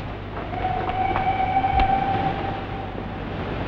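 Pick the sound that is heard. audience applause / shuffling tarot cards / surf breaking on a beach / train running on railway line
train running on railway line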